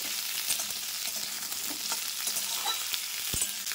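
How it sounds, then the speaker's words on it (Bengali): Five-spice seeds stir-fry in hot oil for a chutney, giving a continuous light sizzle with occasional stirring taps and scrapes, close and fairly quiet, with no speech. "5 ফোড়ন দিয়ে আমি সেগুলো হালকা করে এবার একটু নেড়ে চেড়ে নেব"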